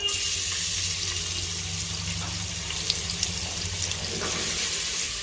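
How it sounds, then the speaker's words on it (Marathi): A large onion frying in oil heated over a high flame, for a Khandeshi mutton dish, gives a steady, loud, dense sizzling hiss that carries on unbroken throughout, with no talking. "एक मोठा कांदा परतायला घेऊया."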